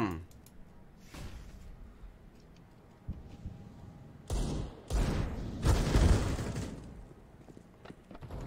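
Gunfire in a first-person shooter video game, with scattered shots and short bursts rising to a loud cluster toward the end, along with game clicks and faint voices.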